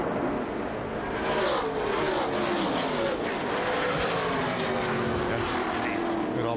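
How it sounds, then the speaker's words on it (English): Stock car spinning in turn two and being collected by another car during a NASCAR race, a loud sustained engine roar with tire noise and impact rumble throughout, under faint commentary. "JJ Yeley spun in turn two and then was collected by Brendan Gaughan"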